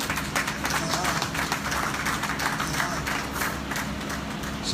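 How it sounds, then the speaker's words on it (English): An audience claps steadily at a formal ceremony as a woman walks up to the podium to give her speech, a dense, continuous patter of many hands from start to finish with faint voices underneath. "If you want to clap, you clap"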